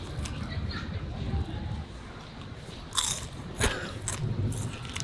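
A few crisp crunches and bites cut through as someone chews a dry, hard edible scorpion, set against low background noise.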